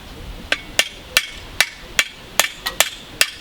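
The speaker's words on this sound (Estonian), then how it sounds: "umbes 700 grammise, 600 grammise, 800 grammise haamriga lööd sinna peale." A hammer of roughly 600 to 800 grams peens a scythe blade with about ten sharp metallic strikes at a steady, fairly quick rhythm, close and clear, with no talk.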